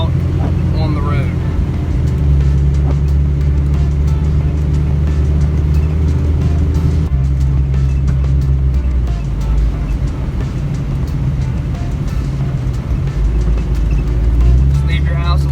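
Jeep XJ with a front locker driving on a snowy road, its engine and tyres making a loud steady droning rumble throughout, with the engine note shifting as it changes speed.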